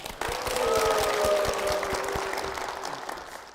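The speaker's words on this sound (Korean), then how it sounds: "박수로 모시겠습니다" Church congregation applauding to welcome a deacon husband onto the stage during a testimony program, steady broadband clapping that swells quickly then slowly fades over a few seconds, with faint musical tones beneath.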